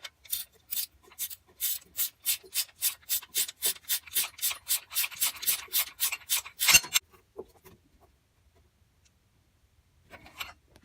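A bolt is wound into a Suzuki SX4 tensioner pulley, giving a close, quiet run of rhythmic ratcheting rasps, about twenty evenly spaced strokes that end abruptly, then near silence with a faint clink near the end.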